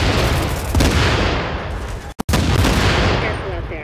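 Heavy gunfire in a Tom Clancy's The Division combat scene, a dense loud barrage of shots and booms that keeps up the whole time with one brief gap near the middle.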